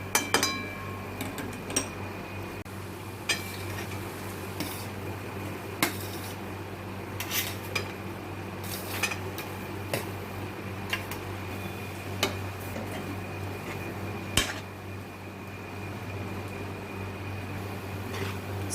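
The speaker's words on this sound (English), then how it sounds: "Stir the rice well" A spoon stirs rice in a cooking pot for Jain corn pulao with ghee and corn, giving scattered light clinks and scrapes against the pot over a steady low hum of the stove.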